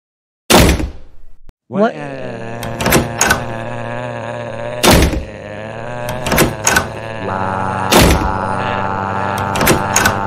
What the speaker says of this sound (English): stop slamming the door